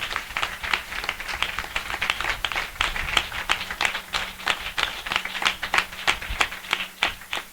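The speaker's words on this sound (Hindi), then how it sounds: "हम जोरदार ताली से उनका स्वागत करें।" A church congregation at a spiritual assembly claps in sustained, crowded applause for several seconds. The individual hand claps are sharp, dense and even.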